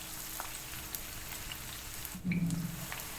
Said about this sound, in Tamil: இதை நம்ம லோ ஃப்ளேம்லேயே நம்ம இதை ஃப்ரை பண்ணிக்கலாம்